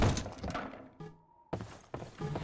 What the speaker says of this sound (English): take your friendly neighborhood gravity gun, flip this table over.